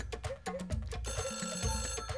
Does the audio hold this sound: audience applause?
no